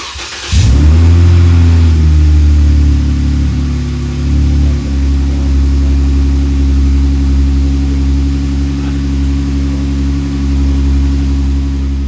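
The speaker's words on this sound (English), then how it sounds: "was going to increase the volume as well as change the tone of the Jeep's exhaust" A Jeep Wrangler JK with an aftermarket cat-back exhaust fires up and revs, then holds a deep, steady exhaust rumble that stays loud and close throughout.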